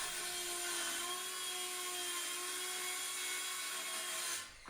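A power saw cuts a 2.5 inch wooden French cleat in one long, steady, high whine that holds close and loud, then stops abruptly near the end.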